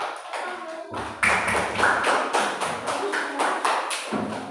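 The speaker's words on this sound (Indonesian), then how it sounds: "Tepuk tangan buat kelompok semangat." A classroom group applauds, a burst of close, steady hand claps starting about a second in and running dense and fairly loud to the end, with a brief dip near the close.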